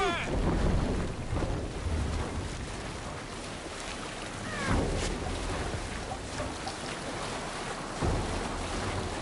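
A Viking boat rowed and sailed across open water in Assassin's Creed Valhalla: steady wash of waves and wind-blown rush around the hull, with a few surging swells, close and continuous.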